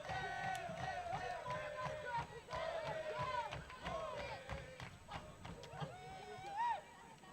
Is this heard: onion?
no